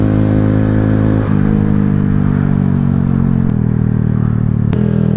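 Honda Grom motorcycle riding a wheelie, its small engine droning steady and loud close up, with the pitch stepping down a few times as the throttle and gears shift.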